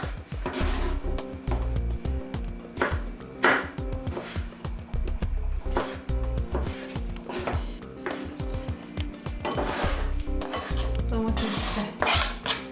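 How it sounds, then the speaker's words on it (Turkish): Rapid, steady knife chopping of peeled tomatoes on a cutting board, a dense clatter of blade strikes with a constant tonal hum behind it. "kabuğunu soyduğumuz domatesleri yine normalden biraz iri doğruyoruz"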